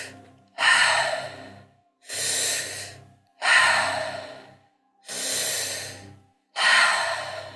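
Five slow, deep breaths through a slightly open mouth, filling chest and belly, each a soft airy rush of about a second separated by short pauses, close and unhurried with no talking.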